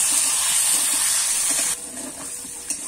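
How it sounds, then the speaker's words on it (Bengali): Potatoes seasoned with salt and turmeric fry in hot oil, giving a steady close hiss that drops to a quieter sizzle partway through, with no voices. "দিয়ে কিন্তু আমি আলুটা লাল লাল করে ভেজে নেব"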